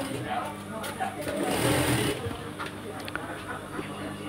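A sewing machine runs a thick top stitch along the hem of a petticoat, a steady mechanical whir that speeds up briefly in the middle, with someone speaking over it.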